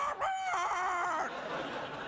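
A comic chicken sound effect, one loud strained squawk lasting about a second that then trails into a noisier fading tail, heard alone without talk.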